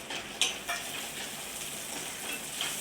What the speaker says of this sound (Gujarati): ડુંગળી ટમેટા કેપ્સિકમ કાજુ બધું તેલમાં પેલા સરખું શેકી લે છે